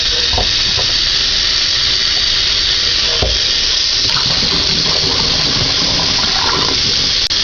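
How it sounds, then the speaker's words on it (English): Running water splashes loudly and continuously over wheat berries being rinsed and drained in a jar, a steady gushing wash with a few small clinks. "Just rinse them and drain them."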